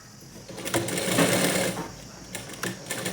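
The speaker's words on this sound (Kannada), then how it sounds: "ನೋಡಿ ಈ ರೀತಿ ಫಾಸ್ಟಾಗಿ ಕೂಡ ಸ್ಟಿಚ್ ಮಾಡ್ಬೋದು" A sewing machine rapidly stitches a blouse sleeve in a close, steady mechanical whirring that briefly pauses and restarts.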